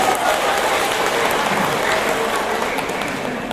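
A hall full of posyandu health volunteers at a district health office tuberculosis seminar applauds, dense and even clapping sustained at full strength throughout, with a faint voice barely present underneath.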